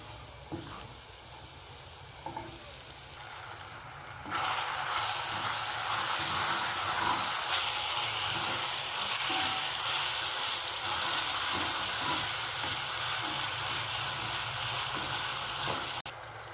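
Tomato paste sizzles loudly in a hot pan for a pizza sauce, a steady frying hiss that jumps up suddenly partway through and holds at a constant level, with faint kitchen clatter before it and no talk.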